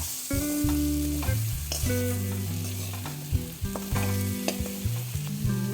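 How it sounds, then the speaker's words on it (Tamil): Masala with salt and turmeric is stirred in a pan while cooking a cauliflower and potato curry, giving a steady close sizzle with scraping strokes under melodic background music. "உப்பை போட்டுட்டு நம்ம இதை நல்லா மிக்ஸ் பண்ணி விட்டுடுவோம்"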